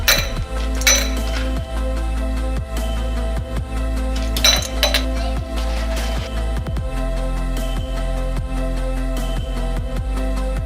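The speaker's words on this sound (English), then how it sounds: "Put 3 ice cubes." Three ice cubes dropped onto orange slices in a glass while mixing an Aperol Spritz, giving a few sharp, close glassy clinks over a steady background bed.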